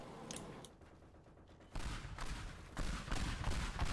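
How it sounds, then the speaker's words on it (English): Bursts of rapid video-game gunfire rattle in clustered volleys after a brief quiet stretch, rising to a loud, dense fusillade of repeated shots near the end. "You're getting shot."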